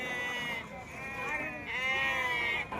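Ongole sheep bleating at a livestock market, several wavering bleats overlapping across the clip, close and fairly loud, with crowd chatter and market noise underneath.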